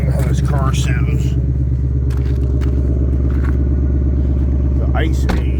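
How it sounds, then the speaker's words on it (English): A car engine running in track mode gives a steady, deep, loud rumble throughout, with people talking over it. "Look at how this car sounds."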